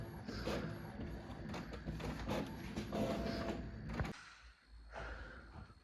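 A printer in a small home shop pulls in a sheet of paper and prints, giving a steady mechanical whirr and feed rattle with short clacks that stops abruptly near the end, followed by a softer brief run of motor noise.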